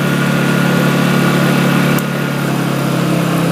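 An emergency power generator engine running at full throttle, a loud, steady droning roar close by with strong vibration, holding constant with a slight drop in level partway through.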